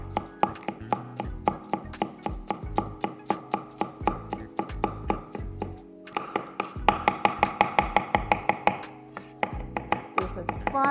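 A knife smashes and chops five garlic cloves on a board, a fast, steady run of sharp close taps. Near the end the rhythm briefly pauses, then quickens.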